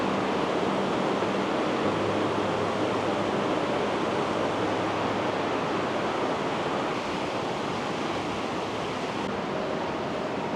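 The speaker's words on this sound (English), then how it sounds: "just listen to the roar of that river" Steady, loud roar of a river near Horseshoe Falls, a continuous broadband rush of fast water that stays even and close throughout, with no voices.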